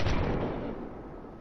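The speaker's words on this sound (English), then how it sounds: "He didn't shoot me. He shot the wall." Gunfire in the video game Fortnite, a single loud burst at the start that decays into a dense, noisy rumble over about a second.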